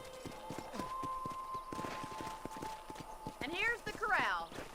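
Horse hooves clip-clop steadily at a walking pace on a ranch corral in the Red Dead Redemption video game, with voices talking over them and a horse whinnying near the end.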